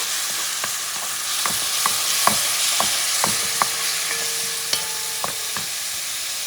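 Tomato sauce going into a pot of simmering Puerto Rican chicken noodle soup, a steady loud sizzle and bubbling hiss with regular light clinks of a spoon stirring against the pot.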